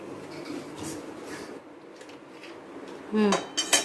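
A knife cuts chicken for chicken macaroni in a home kitchen, giving soft, low scraping under faint room noise, then a few sharp clinks and knocks against the board or utensils near the end.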